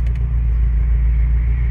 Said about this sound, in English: So you can hear that boxer once again